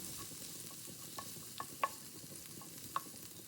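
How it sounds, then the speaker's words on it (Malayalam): Ginger garlic paste sautéing in oil in a pan, a soft continuous frying hiss with occasional small pops and light stirring taps, quiet and close, no voices. "ആ ഇഞ്ചി വെളുത്തുള്ളി പേസ്റ്റ് കൂടി ചേർത്തിട്ട് അത് നന്നായിട്ടൊന്ന് വഴറ്റിയെടുക്കുന്നുണ്ട്"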